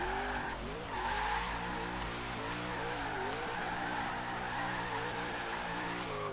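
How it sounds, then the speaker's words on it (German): Tires skid and squeal continuously as a car drifts through left-right countersteered slides in a racing video game, with steady engine drone underneath and wavering pitch; no talking. "Also, ich kann damit halbwegs driften."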